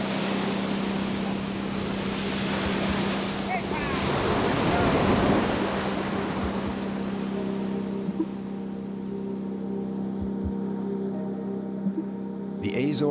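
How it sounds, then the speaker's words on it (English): Storm-driven ocean waves break and surge along the exposed Atlantic coast of the Azores, with strong wind buffeting the microphone in a steady loud roar that eases toward the end, where a few faint knocks sound. "The waves are going to keep getting higher."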